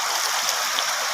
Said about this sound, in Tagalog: Oh, napakalakas ng agos